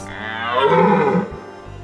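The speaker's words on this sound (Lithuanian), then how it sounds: "Va kur elnis." A deer gives a single drawn-out, low bellowing call lasting over a second, loud and close, with no talk.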